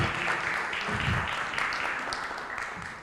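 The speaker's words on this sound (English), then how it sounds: "Another round of applause for our ED." An audience at an International Youth Day event applauds, a dense wash of clapping that fades slightly toward the end.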